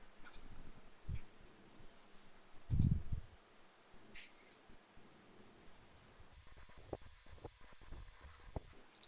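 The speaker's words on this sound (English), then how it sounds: "So click on it and click on download." A few quiet, sparse computer mouse clicks on a desk during a software download, with soft rustling and faint room hiss between them and no talking.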